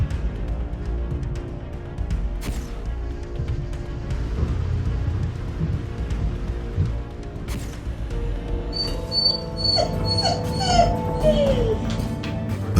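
A frightened dog whimpers and yips close by, high thin whines that come in short bursts over a dim, murmuring background.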